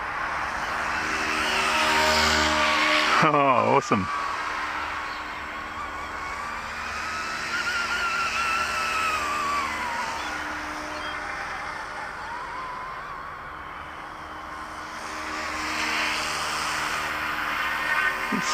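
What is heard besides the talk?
Eachine E200 SH-60 SeaHawk RC helicopter flying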